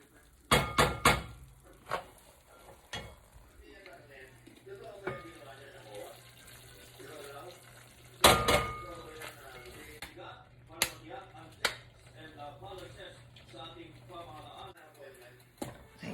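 Latik, coconut curds, stirred in a pan for Filipino biko, gives repeated scraping and clinking, with a few sharp metallic knocks and a quieter rustle in between, under talk.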